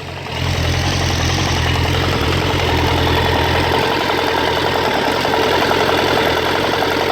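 Steady, loud engine idle recorded up close beside the valves on one side of an engine with a knocking fault, a continuous rumbling drone with fine rapid ticking running throughout and no talk.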